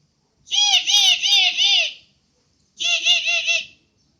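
A human voice imitates a parrot call, giving two shrill, warbling squawk phrases close to the listener, the first about one and a half seconds long and the second shorter, with a brief pause between them.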